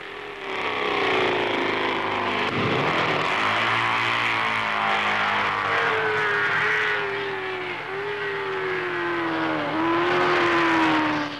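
A 1954 Gilera racing motorcycle at well over 140 mph along the long straight at the Dutch TT in Assen: a loud, sustained high-pitched engine wail whose pitch slides down and up through gear changes as it roars past.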